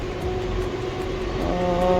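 A passing train, a steady low rumble with sustained tonal hum, fairly close and even in level, no voices.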